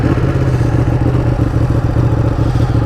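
Ducati Panigale motorcycle engine running steadily and loud for the whole stretch, a dense mid-pitched rumble with clattery mechanical texture and no talk.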